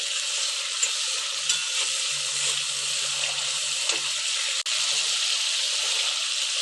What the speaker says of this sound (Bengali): বেশ ভালো করে এটাকে কষিয়ে নেব অনেকটা সময় ধরে, যতক্ষণ না অবধি মশলায় তেল ছেড়ে দিচ্ছে